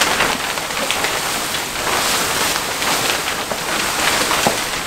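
Plastic raincoat or poncho rustling steadily and close, a dense crackling patter that sounds much like rain falling on a surface, continuous throughout with no talking.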